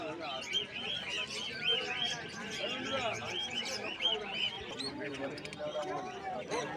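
Black and white Java sparrows in a cage at a busy bird market give dense, continuous chirps and tweets, mixed with other birds and nearby voices.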